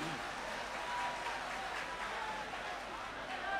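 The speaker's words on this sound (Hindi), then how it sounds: "आप लोग तालियों से नवाजें।" Audience applause at a mushaira poetry gathering in Titagarh, Kolkata, a continuous wash of clapping from a crowd heard at a moderate distance, steady in level throughout.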